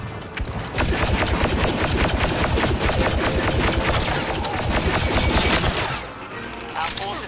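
Rapid blaster fire from a Star Wars Battlefront II beta match rattles in dense, continuous bursts for several seconds, loud and close, then thins out and stops near the end with a sharp final crack.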